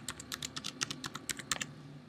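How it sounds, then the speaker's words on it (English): A password typed on a computer keyboard: a quick, uneven run of close, crisp keystrokes with no talk. "I'm just going to type in a random password here"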